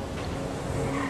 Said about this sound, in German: Jetzt machen wir bestimmt einen richtig geilen Drift